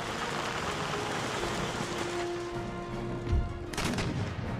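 Naval battle in Empire: Total War, with ship cannon fire as a dense, continuous roar of distant gunfire and a heavier boom near the end, with no talking.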